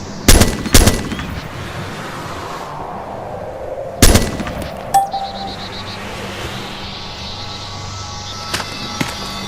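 Weapon fire in Arma II: Operation Arrowhead, aimed through an optic: a quick burst of sharp, loud gunshots at the start, a single heavy crack a few seconds later, and a softer shot soon after, each trailing a long rolling echo over steady ambient wind noise.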